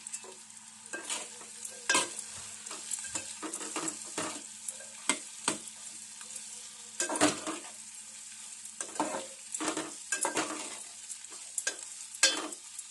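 Eggplant pieces fry in hot oil in a pan, a steady sizzle broken by repeated sharp scraping and stirring strokes of a spoon against the pan, close and fairly loud, with no voices.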